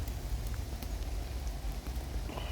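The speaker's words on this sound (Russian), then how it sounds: "Дождь пошел." Light rain begins falling outdoors beside a titanium stove, a soft, steady patter of drops with scattered faint taps over a low, continuous hiss.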